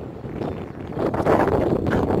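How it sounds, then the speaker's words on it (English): Wind buffeting a microphone outdoors on a gusty day along the east coast, a loud continuous low rumble that swells toward the end, with no speech. "hope you can hear me, it's a bit windy"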